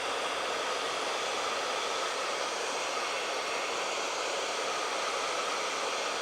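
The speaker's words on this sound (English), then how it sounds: "We're using an Infinity Pro hair dryer" Infinity Pro hair dryer blowing hot air in a steady, unbroken broadband rush that holds an even level, used to warm and loosen a sticker without harming paint.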